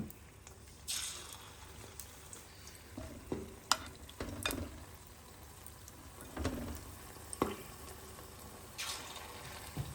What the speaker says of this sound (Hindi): अब इसको तेल में डाल रहे हैं फ्राई करने के लिए।